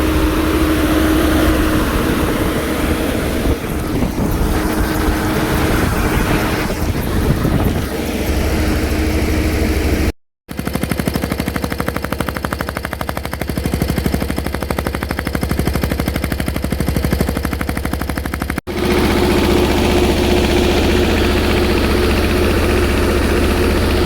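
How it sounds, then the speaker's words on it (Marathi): A tractor engine runs steadily at a farm during irrigation work, a continuous loud mechanical chugging with a brief dropout partway through and no talk over it. "अजून ट्रॅक्टर चालू केलं बघा लगेच"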